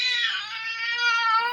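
A cat trying to leap out of a second-story window lets out a loud, drawn-out yowl, one continuous wavering cry up close with no talking.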